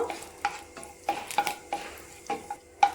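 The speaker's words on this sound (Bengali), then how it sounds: "একটু ভাজা ভাজা করে নেব" Soft sizzling of a dried red chilli and whole cumin in mustard oil for masoor dal, under repeated scraping and stirring strokes of a utensil against a pan, irregular clinks spaced through the clip.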